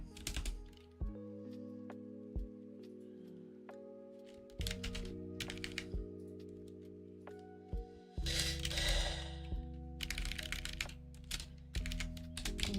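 Typing on a computer keyboard during novel writing, a close, steady patter of keystrokes in bursts over a sustained tonal music bed, with no talking.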